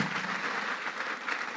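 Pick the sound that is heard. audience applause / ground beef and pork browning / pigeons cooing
audience applause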